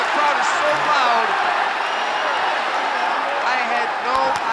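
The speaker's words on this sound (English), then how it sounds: "I'm gonna lose my hearing, the crowd is so loud" A loud, dense arena crowd roars and cheers steadily throughout a heavyweight MMA fight, with scattered claps and shouts in the mix and a commentator's voice running under the noise.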